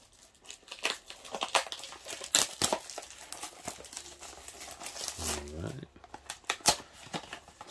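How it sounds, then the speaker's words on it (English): Plastic and foil packaging of a Funko Soda vinyl figure is torn and crinkled open in a series of sharp rips and rustles, close and crisp, with a short spoken interjection partway through. "I'm just going to rip it open."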